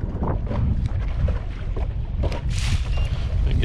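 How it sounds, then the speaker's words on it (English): A small fishing skiff's motor drones steadily while chasing a hooked catfish on open water, with heavy wind buffeting the microphone and low rumbling throughout. "Let's get that motor cut off."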